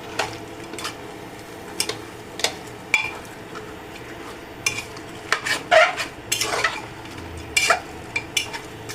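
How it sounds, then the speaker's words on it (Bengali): A utensil stirs food in a pot with irregular scrapes and clinks against the metal, some sharp and close, others lighter, over a quiet room hum. "আমি এমনি এটা দিয়ে নাড়াচাড়া করছি"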